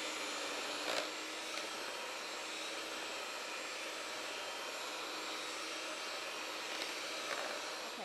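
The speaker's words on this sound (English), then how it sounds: "So we're going to slowly start this up. So mix it up until it's nice and whipped." An electric mixer whips mashed sweet potato with powdered sugar, giving a steady, continuous whirring hum at one speed. The sound stays even and fairly loud throughout, with nobody talking over it.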